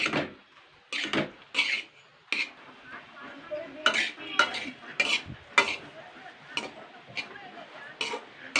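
A metal spoon stirs semolina roasting in ghee in a pan over medium heat for motichur laddu, giving repeated sharp scraping clinks in an uneven rhythm over a faint sizzle, close and fairly soft.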